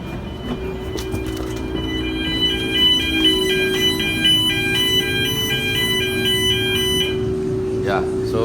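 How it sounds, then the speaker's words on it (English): A refrigerator alarm sounds during a test, a shrill electronic tone pulsing in rapid repeated beeps over a steady low hum, loud and close, then cutting off near the end. "Okay, I'm about to sound the alarm."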